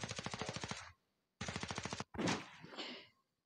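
Rapid automatic gunfire in a video game, two long bursts of evenly spaced shots broken by a short pause, then a heavier blast and a fading tail, loud and close with no talk.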